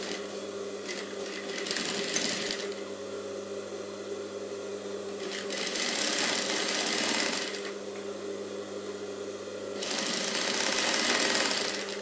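A sewing machine stitches the fabric of a high-neck blouse in three bursts of rapid whirring, close and fairly quiet, separated by short pauses of low motor hum.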